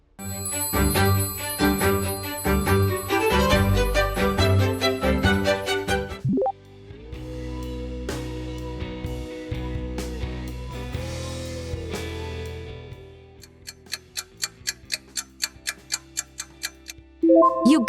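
Meizu smartphone ringtone: a bright, melodic electronic tune with layered chimes and bass, then a sustained tone section ending in rhythmic ticking, clock-like pulses, played loud and alone.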